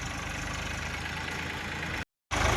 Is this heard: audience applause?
no